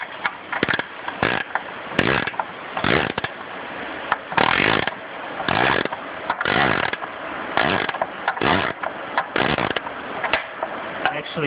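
Ratcheting wrench works a belt tensioner on a broken lawn mower spindle, loud close rhythmic bursts of clicking and grinding repeating steadily for several seconds, no talk over it.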